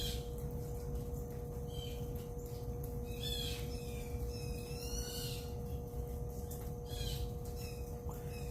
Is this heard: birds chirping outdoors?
yes